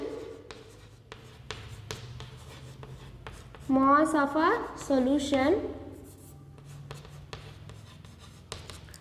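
Pen scratching on paper as someone writes out a mass calculation for a science lesson, a steady run of small ticks and strokes, with a voice speaking briefly in the middle.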